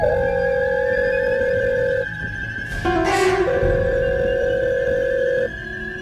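An electronic phone tone rings in steady repeated bursts with a brief pause and a soft swish in the middle, no talking.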